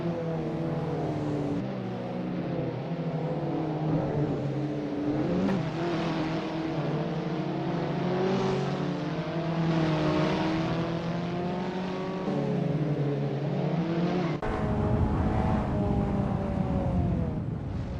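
Abarth 500 race cars in Assetto Corsa on the Pau street circuit, engines droning and revving continuously as they bounce over curbs, several cars close together with a steady loud buzz throughout.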